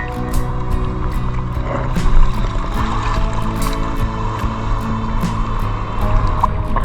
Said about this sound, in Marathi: आता समुद्र कसा खवलेला आहे ना त्याच्यामुळे लाटा जाम मोठ्या मोठ्या येतात